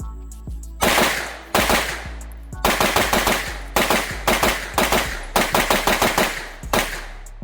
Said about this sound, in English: So we just put just a mag through just to get some rounds down for video purposes and stuff